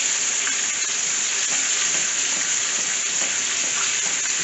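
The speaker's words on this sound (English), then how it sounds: "I'll keep bathing it with some hot oil ever so often" Steady, loud sizzling and crackling of snapper fillets shallow frying in hot oil, a continuous hiss throughout with no talking.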